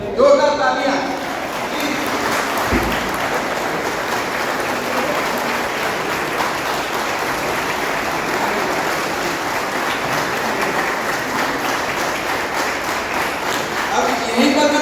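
Audience applause at a technical college alumni meet, dense sustained clapping from a large crowd that fills the whole stretch at steady loudness.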